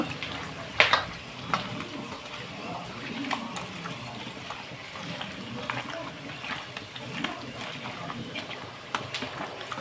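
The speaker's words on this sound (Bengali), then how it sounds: "আমার পেঁয়াজগুলো না বেশ সুন্দর লাল লাল হয়ে আসছে" Onions frying in a pan for a goat meat curry, a steady broadband sizzle with brief louder crackles near the start, with some voice present beneath it.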